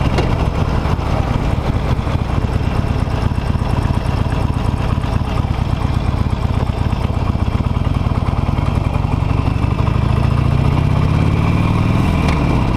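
A Harley-Davidson Nightster motorcycle rides downhill on a slippery road, its engine note steady and close throughout with a low rumble that rises gently in pitch toward the end as it accelerates.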